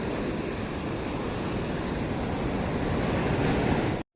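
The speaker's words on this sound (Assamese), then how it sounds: "এতিয়া পূৰা পানী মানে ঢৌ উঠিছে পূৰা" Sea waves surge and roll in at ECR beach near Chennai, a steady, loud wash of surf with wind noise that runs unbroken, then cuts out abruptly at the very end.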